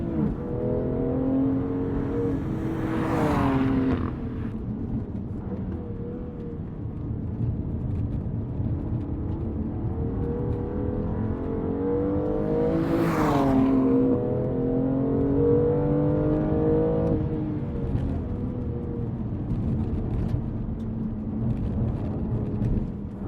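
A BMW M2 Competition and a Honda Civic Type R run on a race track, with a steady loud engine drone and two rising whooshes as the cars pass close by, then the engine note holds on without any talk.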